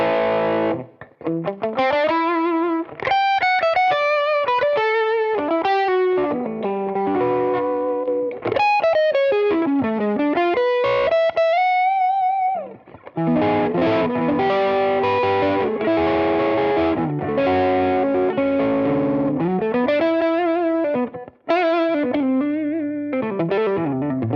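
A smooth, sustained distorted electric guitar lead through an S-Gear amp simulator plays flowing melodic lines with bends and vibrato, steady and loud with a touch of chorus and reverb.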